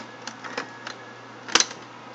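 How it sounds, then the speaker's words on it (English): A cassette tape clicks into the tape player of a Kodak Ektagraphic 270 Autoviewer projector: a few light plastic taps, then a sharper snap near the end over a low steady hum, up close and quiet. "pop the tape in there"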